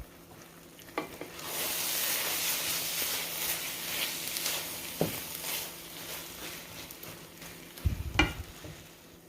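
Cream cheese being stirred into seasoned chicken with peppers and onions in a hot pan, with steady sizzling and hissing and a few scraping knocks of a utensil, no talk.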